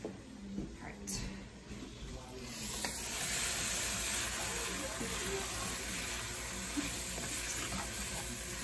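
Paprika sizzles briefly in a pot with beef for goulash, a steady broadband frying hiss that swells after the first few seconds and holds, with a voice murmuring faintly underneath.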